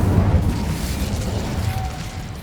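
Incendio fire spell cast in the video game Hogwarts Legacy, a loud, deep whooshing burst of flame that roars at the start and slowly fades, no talking.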